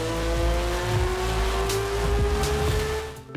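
A McLaren 720S with a 4-litre twin-turbo V8 roars loudly and close, its engine note climbing steadily through a sustained pull, with no talk over it.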